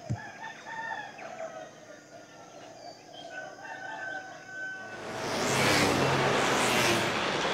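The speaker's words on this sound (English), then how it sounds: "This is the sound we're hearing from our hostel. All night, mainly, from the roosters." Roosters crow repeatedly through the night and morning near a hostel in Indonesia, several calls rising over a busy background of clucks and passing traffic, with a louder surge of broad noise near the end.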